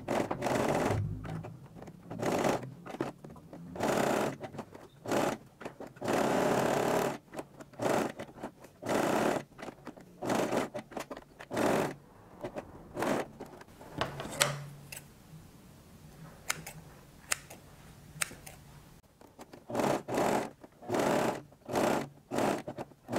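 Sewing machine stitching a fabric butterfly for a fuxico craft piece, running in repeated short bursts with brief pauses between seams, close and moderately loud, with a few soft handling scrapes of cloth.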